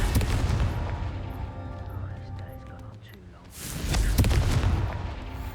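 In Hogwarts Legacy, a Confringo spell sets off a fiery explosion: a broad, roaring blast that dips briefly, then swells back into a second loud burst of rumbling noise.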